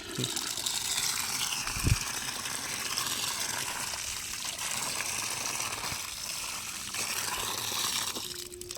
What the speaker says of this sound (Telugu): బోర్ వేసినారు దీంట్లో నీళ్ళు పూర్తిగా వస్తాయి బాగా